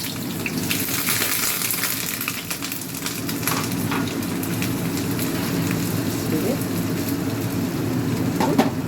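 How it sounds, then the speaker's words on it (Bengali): Onions frying in hot white oil sizzle with a dense, steady crackle and occasional pops, close and continuous without talk. "এটার মধ্যে সাদা তেল গরম হয়ে গেছে, পেঁয়াজ ছেড়ে দেব"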